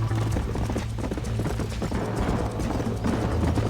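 Horses gallop in a race in the video game Red Dead Redemption, with dense, steady hoofbeats throughout and a brief neigh, loud and continuous.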